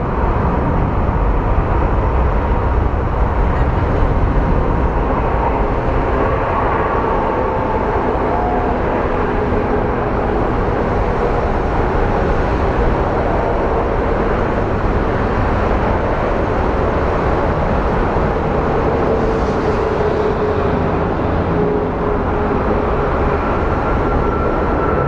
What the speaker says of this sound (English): here comes our Southwest Airlines flight that's headed to LAX